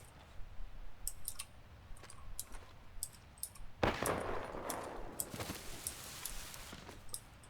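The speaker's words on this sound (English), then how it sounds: "That was not towards us, that shot." Gunshots in the battle royale game Apex Legends, distant sharp cracks scattered over a quiet backdrop with keyboard-like clicking, then a closer, heavier burst of fire and rumble that trails off into further scattered shots.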